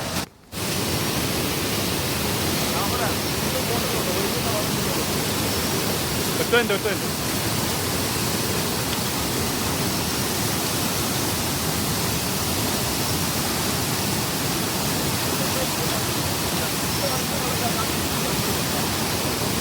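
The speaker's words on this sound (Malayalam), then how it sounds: "നല്ല ഫോഴ്സിലാണ് വെള്ളം വരുന്നത്" A powerful waterfall swollen by rain roars in a steady, dense wash of rushing water that holds constant and loud throughout, with no pauses.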